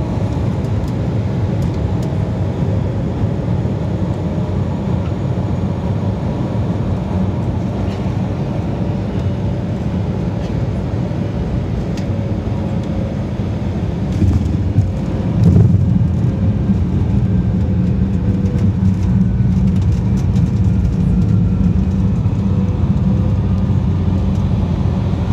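An airliner cabin fills with a loud, steady low roar of engine and airflow as the plane descends to land in Washington, continuous throughout with a brief thump near the middle.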